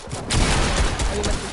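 Rapid bursts of gunfire from a shooter video game crackle in a dense, loud volley lasting under two seconds, with no clear talk over it.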